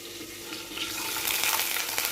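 Ginger paste hitting hot oil with bay leaves and whole cumin sputters into a bright, steady sizzle that swells and stays loud and close, crackling without a break.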